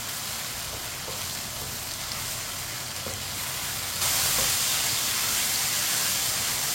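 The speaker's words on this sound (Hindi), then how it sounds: "तोरी को भी इसी तरह चम्मच चलाते हुए फ्राई कर लेना।" Ridge gourd frying in a pan while stirred with a spoon, a continuous hissing sizzle that grows louder and brighter partway through, with faint stirring scrapes and no speech.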